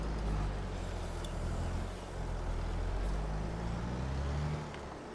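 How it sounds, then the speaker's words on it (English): John Deere tractor in Farming Simulator 22 rumbling with a steady low engine drone, continuous and fairly loud, with no talk over it. "that John Deere's my biggest tractor."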